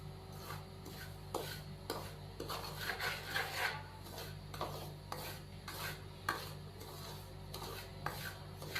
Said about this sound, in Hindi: इसके अंदर जो चम्मच है वो लगातार हमने हिलाते जाना है